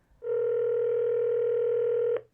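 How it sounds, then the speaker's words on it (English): A single steady telephone tone, likely a dial or ringback tone from a phone call being placed, holds loud and clean for about two seconds before cutting off. "Let's prank phone call our coworker right now."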